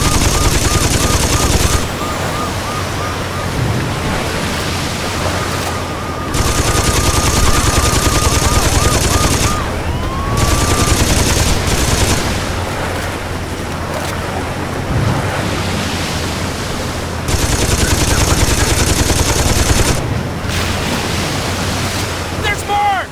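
Sustained machine gun fire in Saints Row 2, loud rapid bursts that start and stop several times over a constant roar of wind and surf, with a few voices in between.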